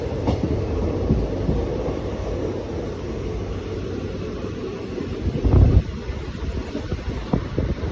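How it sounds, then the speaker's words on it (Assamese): A passenger train travelling home from Guwahati rolls along its rails with a loud, steady rumble and rattle. Wheel clatter persists throughout, with a heavier surge of noise near the end. "এতিয়া ট্ৰেইনখন শ্ল' কৰি দিলে চাই লওক লাহে গৈ আছে"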